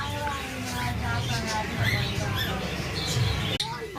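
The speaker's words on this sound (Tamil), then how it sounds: "இங்க பார்த்தீங்களா பேரட்." Harsh, repeated bird squawks over a busy, noisy background with chatter and rustling, ending in a sharp click.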